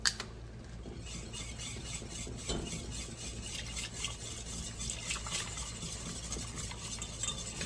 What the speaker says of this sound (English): Keep stirring because you don't want that to burn at the bottom of your pot.